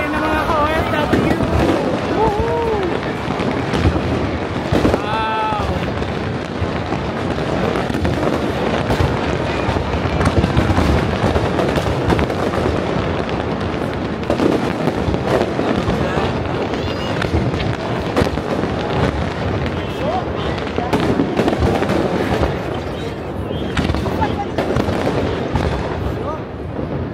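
Fireworks bursting continuously at the Singapore National Day rehearsal, rain-dampened and smoky, dense crackles and booms layered over a busy crowd, with people talking nearby throughout.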